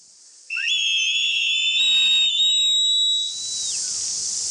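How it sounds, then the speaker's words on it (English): A loud, sustained high whistle blast from a search party in the bush, held for about three seconds with a slight waver, then cut off against a quiet outdoor background. "we've just heard a whistle, so it sounds like our search party is pretty nearby"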